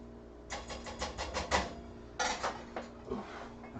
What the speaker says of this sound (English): how I mix rice, I actually use a whisk